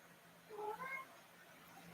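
A cat gives a drawn-out meow with a couple of rising, wavering tones. It is fairly quiet and stands alone against a faint background hum.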